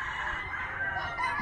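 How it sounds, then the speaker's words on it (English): Chickens and roosters crowing and clucking around a rural village in the Philippines, a steady chorus of several birds at moderate distance with no voices over it. "Oh, you hear all the chickens in the background?"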